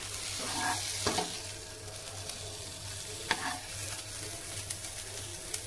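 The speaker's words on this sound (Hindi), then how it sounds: "सेम मसाला जो मेरे पास बचा था उसके साथ अब मैं मशरूम्स को टॉस कर रहा हूँ" Mushrooms tossed in leftover pepper fry masala in a pan give a steady, quiet sizzle with a few soft scraping stirs throughout, heard alone without talk.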